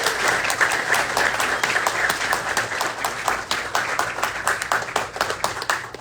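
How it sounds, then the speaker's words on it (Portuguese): Audience at an evening political leadership meeting in Bahia applauding a state deputy, a steady wash of many hands clapping at moderate loudness for about six seconds, no speech over it. "Receba com calorosos aplausos também."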